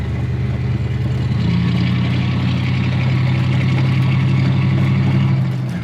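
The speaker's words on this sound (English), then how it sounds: "So we make a little bit more noise with the 5-inch open exhaust" A Hemi-engined Mustang idles through a 5-inch open exhaust with a deep, rough rumble, steady and loud throughout, with a low drone settling in after the first second.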